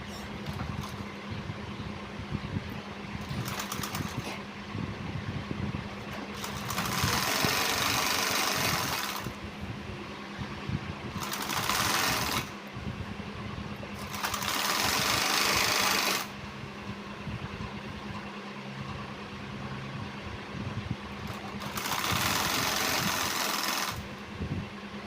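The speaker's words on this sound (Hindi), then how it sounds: "इस तरीके से सीधी साइड से सिलाई लगानी है" A sewing machine stitches the waistband belt onto a pair of ladies' pants, running in several bursts separated by pauses, with a steady machine hum between them.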